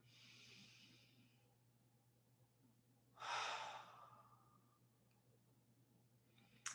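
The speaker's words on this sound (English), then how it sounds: "So take 3 deep breaths." One deep, slow breath drawn in and let out during a guided breathing exercise, soft and close with a faint steady hum beneath it, followed by a long quiet pause.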